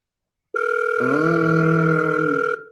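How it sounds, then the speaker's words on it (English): A sales power dialer gives off a steady electronic dialing and ringing tone that starts abruptly, holds for about two seconds, and cuts off, loud and alone. "Jake, you can turn off the dialing sound actually"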